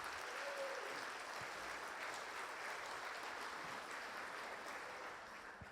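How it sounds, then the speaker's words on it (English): An audience at a Senior of the Year awards event gives a sustained round of applause, a dense, even wash of clapping heard from a distance that fades slightly toward the end. "Let's give them all a big round of applause."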